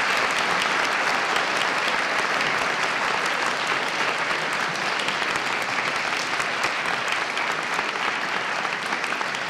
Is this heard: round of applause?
yes